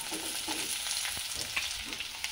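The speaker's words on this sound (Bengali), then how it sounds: "কুচিয়ে রাখা পেঁয়াজ দিয়ে দিচ্ছি" Chopped onions hit hot oil in a wok already holding whole spices, green chillies and curry leaves, giving a steady close sizzle and frying hiss with light stirring scrapes.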